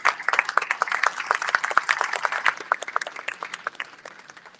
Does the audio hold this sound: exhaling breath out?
no